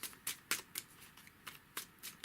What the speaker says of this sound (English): So put those to one side and then shuffle the Destination deck.